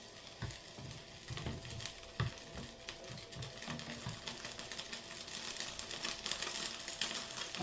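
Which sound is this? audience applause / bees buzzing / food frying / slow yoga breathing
food frying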